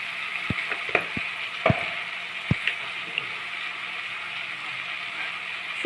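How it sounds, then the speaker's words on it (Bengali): Spices and chopped tomato frying in oil in a pan, with turmeric, coriander and dried chilli powder added, give a steady low sizzle broken by a few sharp pops and clicks of stirring. "এখন শুকনো উপকরণগুলো দেওয়ার পরও ভালোভাবে ভেজে নেওয়া হচ্ছে মশলার সাথে"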